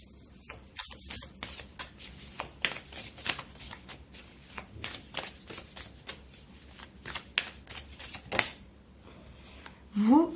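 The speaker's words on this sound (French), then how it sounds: "Allez, je prends une petite carte dessus." Tarot cards are shuffled and drawn in a rapid series of crisp riffling flicks and snaps, close and fairly loud, continuing for about ten seconds with a louder rustle near the end.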